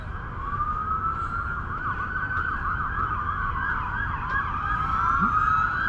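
Sirens from three police cars passing along a street in Kingsport, Tennessee, wailing and sweeping tones overlapping, loud and continuous over traffic rumble.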